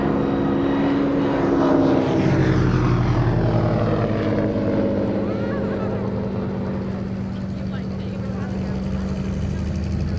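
A Hawker Demon propeller biplane flying alongside a Hawker Hind, a loud continuous engine drone and propeller hum that swells and slowly fades as the aircraft pass, with talk over the top.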